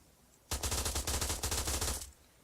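Submachine gun from a Modern Warfare game mod fires one sustained automatic burst of about one and a half seconds, rapid and loud, with no talk.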